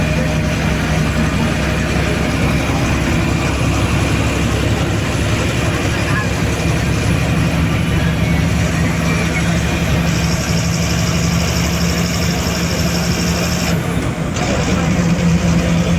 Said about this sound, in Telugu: మేము బస్సులో గోల్డెన్ టెంపుల్ బయలుదేరుతున్నామండి